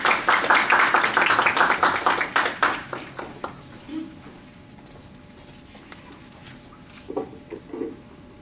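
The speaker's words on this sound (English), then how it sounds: "So give her a round of applause for Charlotte" A round of applause at a career development workshop greets the speaker: loud, dense clapping for about three seconds that thins to scattered claps and fades out, leaving quiet room tone with a couple of faint thumps.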